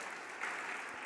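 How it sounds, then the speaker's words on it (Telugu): A church congregation claps together during worship, a brief, even, fairly faint patter of many hands. "చప్పట్లు కొట్టి దేవుని స్తుతించండి."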